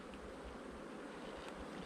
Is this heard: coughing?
no